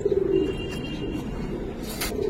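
A Giribaz pigeon coos close by in a short, soft, throaty burst, followed by quieter shuffling and a brief rustle.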